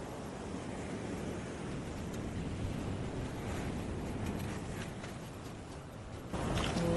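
Ocean surf washes steadily against the rocks at a sea cave on Thousand Steps Beach in Laguna Beach, a constant broad rush with wind buffeting the microphone and a louder surge near the end.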